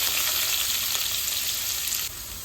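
Chopped large onion hits hot oil with popped mustard seeds in a pan, giving a steady, close, bright sizzle that hisses continuously and eases slightly near the end, with no talking.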